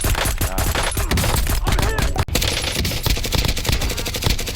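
Rapid automatic fire from a Grau 5.56 rifle in Black Ops 6, loud dense bursts of shots running almost continuously, with a brief gap midway.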